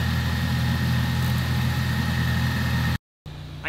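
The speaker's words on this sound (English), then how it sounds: "I gotta talk loud because the car's still on." A Ford Focus ST engine idles steadily with a loud, constant low rumble, then cuts off abruptly near the end before a quieter background resumes.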